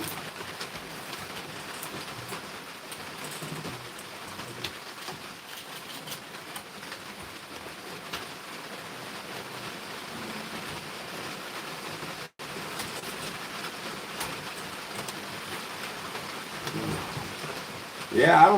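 Steady rain drums on a tin roof in an off-grid bushcraft camp, a dense, even patter that goes on throughout, with a brief thump near the end.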